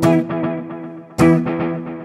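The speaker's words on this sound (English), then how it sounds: "I have a distortion pedal plugged in here too" Distortion pedal feeding a Kemper guitar amp: two loud, saturated guitar chords, each struck and left ringing with a buzzing, harmonically rich sustain, the second hit after about a second.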